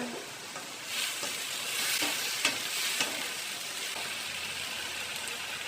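Carrots for fish lumpia sizzle steadily in a frying pan, a continuous close hiss with a few soft stirring clicks and no voices.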